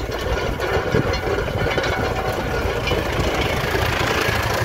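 Ursus tractor driving in second gear across a field, a steady, loud diesel rumble with continuous vibration and no pauses.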